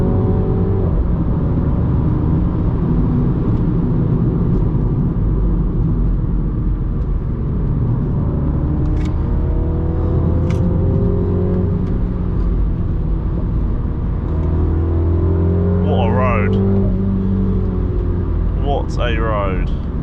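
A Mini car engine runs with a loud, steady, close-up drone, and a couple of brief sharp exhaust cracks break through partway. A voice talks over the engine noise.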